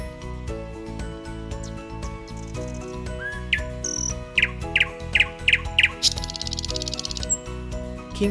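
A wren gives a run of short, sharp, high chirps in a quick series, followed by a rapid trill, all set over gentle background music.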